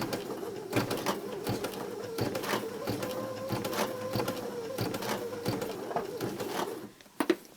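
Baby Lock Sashiko sewing machine stitching binding onto a quilt, a steady close mechanical whir with regular clicking stitch beats running throughout, stopping near the end with a couple of louder handling knocks.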